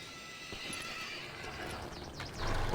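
A horse in the western video game Call of Juarez Gunslinger neighs and whinnies near the end, with clip-clopping hooves and steady background ambience running throughout.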